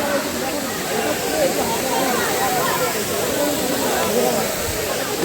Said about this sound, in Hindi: तो फाइनली हम झरना पे आ गए हैं।